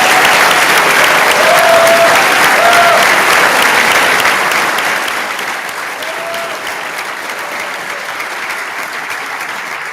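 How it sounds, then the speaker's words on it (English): A large audience at a Royal Holloway graduation ceremony applauds the class of 2025, giving dense, sustained clapping that stays loud and then eases slightly, with a few whistles. "please do join me in applauding our brilliant class of 2025"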